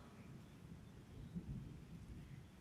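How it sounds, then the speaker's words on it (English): Low rumbling thunder rolls under steady rain, fairly quiet and continuous, swelling slightly partway through, with no voices. "Explain how it's raining."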